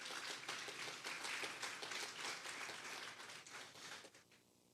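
Church congregation giving a loud round of applause during a Sunday service, a dense, rapid clapping texture sustained for about four seconds before tapering off, recorded faintly at low level.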